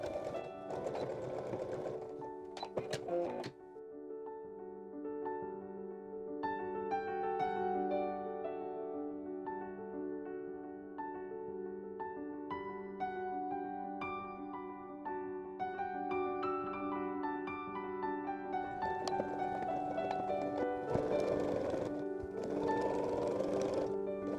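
A sewing machine stitches the upper edge of a pillowcase-style top with a wide seam allowance, running in steady bursts with brief pauses, close and clear, with no talking.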